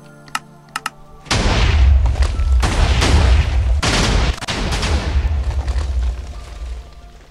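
Walls being blown apart during a raid in a video game: a sudden heavy blast erupts after a few faint clicks, followed by a sustained barrage of loud overlapping explosions and rumbling debris, then a second wave of booms.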